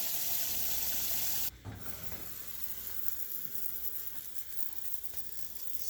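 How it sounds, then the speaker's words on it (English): Tap water pouring into a pot over chicken for Vietnamese chicken pho, a steady rushing splash that drops in pitch and softens as the pot fills, continuing alone and fairly quiet. "Fill it up with water."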